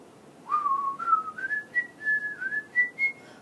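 A person whistles a short rising melody alone, a clear close tone moving upward in a few connected phrases over quiet room background.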